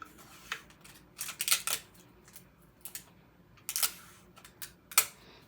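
Heat tape is pulled and pressed onto a T-shirt for sublimation, giving a handful of short, crisp tearing and crackling bursts in irregular clusters. The sound is close and quiet, with no one talking.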